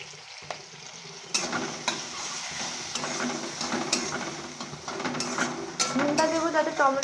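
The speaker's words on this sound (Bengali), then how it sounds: "একটু হালকা ভাজবো, পুরোটা গলাবো না" Tomatoes fry lightly in a pan with a close crackling sizzle, broken by sharp clinks and scrapes of a utensil stirring, and a brief voice near the end.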